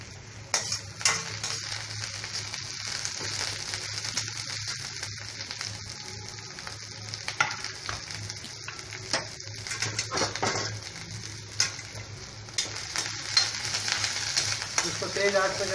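Garlic, onion, cabbage and capsicum stir-fried on a high flame for chicken triple Schezwan rice, with a steady loud sizzle and repeated metal spatula scrapes and clinks against the pan.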